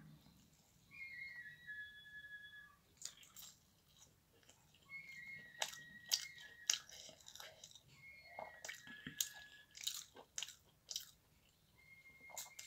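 A woman eating sattu roti, a flatbread of roasted gram flour, for breakfast: soft close-up chewing and biting sounds come in bursts, with faint whistling tones in between and no speech.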